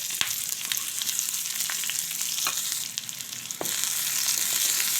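Mustard seeds, small shallots and chopped chilies fry in coconut oil for a fish curry tempering, making a dense, bright, continuous sizzle close up, with occasional pops and crackles and a brief dip before the sizzling swells again.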